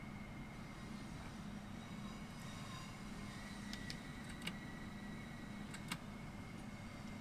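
A passenger train rolls along near a tunnel with a steady low rumble and hum, while faint clicks and ticks cut through now and then.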